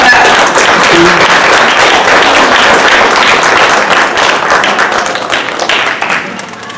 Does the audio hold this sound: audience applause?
yes